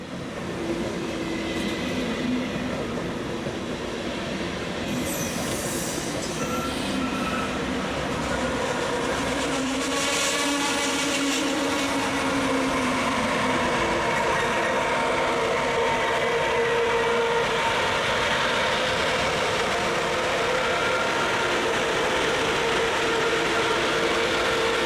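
A German ICE high-speed trainset, number 401052, rolls southbound along the busy Fulda–Bad Hersfeld mainline, a sustained rushing roar of wheels and rail noise with a whine rising and falling midway, no voices.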